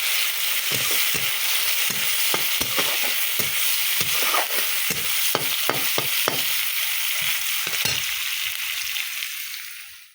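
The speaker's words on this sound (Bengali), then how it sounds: "এদিকে কড়াইয়ে সেই তেলে কালো জিরে শুকনো লঙ্কা ফোড়ন দিয়ে একটা দেবো" Nigella seeds and dried chillies sizzle in hot leftover fish-frying oil in a wok, a steady loud crackle punctuated by sharp popping spits throughout, fading at the very end.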